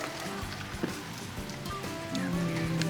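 Steady rain patters on surfaces outside a home, a constant wash of drops with a low background hum, continuing evenly throughout without talk.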